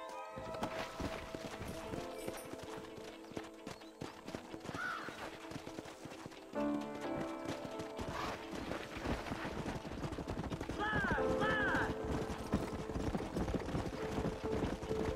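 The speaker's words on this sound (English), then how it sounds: "Horses are over here!" Horses gallop in the Red Dead Redemption video game, their hooves clip-clopping steadily under a dense mix of game music and effects. The sound continues at moderate loudness throughout.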